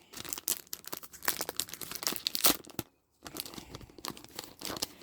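Opening a wrapped package of watercolor cards produces close, loud plastic crinkling and tearing in irregular bursts, with a brief silent pause midway.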